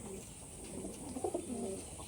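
Soft, low coos from male pigeons murmur through a steady background hum, a few gentle rounded calls rising midway and then fading.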